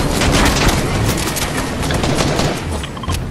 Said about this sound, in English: Oh, they shooting over here.